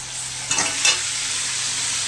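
Marinated mutton goes into a pan of fried onions, setting off a sudden louder sizzle with two quick bursts of stirring over a steady background fry.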